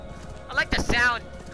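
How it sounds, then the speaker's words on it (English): Horse in the video game Assassin's Creed Valhalla, heard as a few brief hoof clops and movement under a man's speech. "Let me call my horse again."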